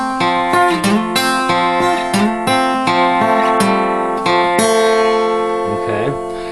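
Fingerpicked acoustic guitar plays the fourth bar: bright, close notes and chord strikes in a quick, bouncy rhythm, ending with a ringing chord that fades, with no talking.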